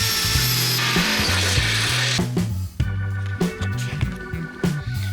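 A power drill bores holes into the metal body of a Golf 2 rally car build, loud and close, with the motor whining and pitch shifting as the bit bites and releases in repeated bursts.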